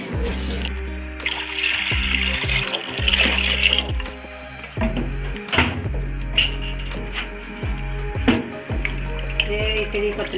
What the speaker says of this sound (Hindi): अब ये डाल देंगे जो बेसन बनाया था लस्सी के अंदर।